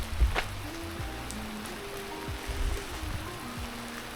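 Heavy rain falling outdoors, a constant hiss of drops on surfaces with occasional louder close splashes and a low rumble of something passing in the background.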